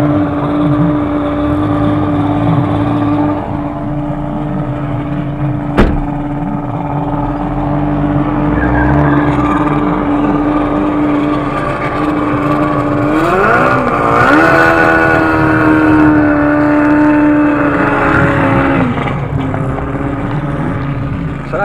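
A race car fitted with a Honda Hornet motorcycle engine accelerates hard at a racing arena, its loud, high-pitched engine note climbing in pitch through several gear changes and staying close throughout.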